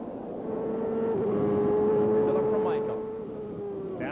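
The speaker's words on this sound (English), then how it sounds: "Now listen to the engine note." A race car engine holds a steady, droning note that rises and then eases off, with faint chatter in the background.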